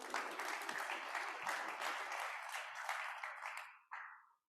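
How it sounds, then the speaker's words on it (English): Steady applause from a crowd at a Kiwanis club meeting, sustained and even for several seconds before tapering off with a last few claps. "Let's give them a round of applause."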